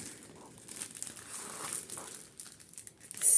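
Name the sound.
opening the packaging of a bead embroidery kit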